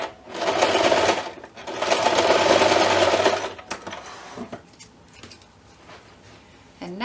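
A sewing machine stitches down the gathered fabric of a pie-shaped bunting in two steady bursts of close, loud running, then stops, leaving quieter handling and clicks.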